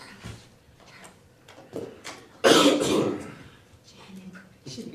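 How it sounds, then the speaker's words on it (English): A single short cough bursts out amid quiet conversation at a municipal meeting, with voices murmuring before and after. "Little cough?"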